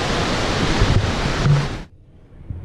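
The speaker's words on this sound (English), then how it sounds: "I was trying to talk down there next to the waterfalls, but the water was too loud" Loud, steady rushing water from waterfalls, a broad roar that fills the clip and then cuts off abruptly, leaving quiet background.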